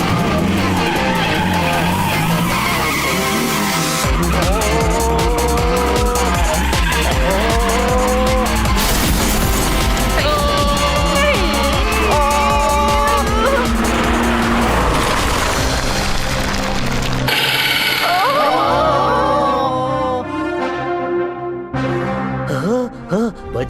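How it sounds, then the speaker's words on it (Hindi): A cartoon car backs up in reverse, with loud engine whine and squealing tires over a busy music-and-effects bed, ending in a burst of clatter. "कन्ना साहब रिवर्स में चलाओ"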